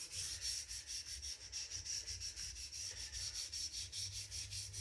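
A gyuto chef knife sharpened on a stone in steady back-and-forth strokes, a rhythmic close rasping repeated about every third of a second, alone and moderately quiet.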